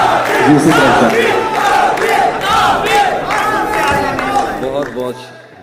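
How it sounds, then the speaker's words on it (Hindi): At an Urdu poetry gathering, an audience cheers and calls out loudly as a poet comes onto the stage. The crowd's voices rise in waves with some clapping before things quiet near the end. "भरपूर तालियों में तशरीफ लाते हैं"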